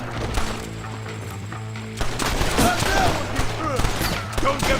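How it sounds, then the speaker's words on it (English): Rapid bursts of gunfire fill a Red Dead Redemption shootout, loud and close with overlapping shots and clatter, and faint voices under the din. "Damn it, why aren't you shooting them?"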